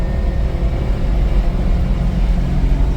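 A Daihatsu Hijet's small engine drones steadily at close range, a dense low rumble with constant road noise and no clear gear-change breaks, no voices.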